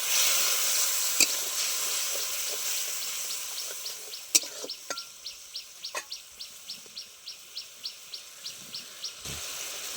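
Masala sautés in a pan for a village-style fish curry, a soft steady sizzle running throughout outdoors while regular chirps tick along in the background.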